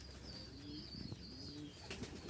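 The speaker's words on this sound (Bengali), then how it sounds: "এই দেখেন আমার একটা কবুতর" Soft, low coos from Rajshahi Giribaz pigeons repeat in short rolling phrases, close by and quiet, with faint higher chirps in the background.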